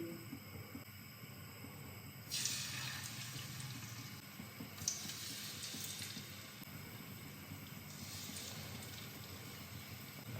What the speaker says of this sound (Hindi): तो अभी एक एक करके फिश के जो पीसेस हैं वो फ्राई होने के लिए डालेंगे।